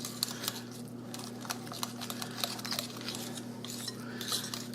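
A utensil stirs a no-bake pudding and cookie fruit dessert in a bowl, with soft, steady scraping and light clinks over a constant low hum.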